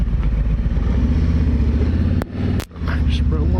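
A Harley-Davidson Road Glide Special motorcycle engine runs with a steady low rumble, a brief dip, then pulls away as the rider rolls on the throttle; close and loud.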